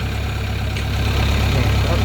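A Kubota rice harvester engine runs nearby with a steady, unbroken mechanical drone and hum, holding an even loudness throughout with no clear change in revs.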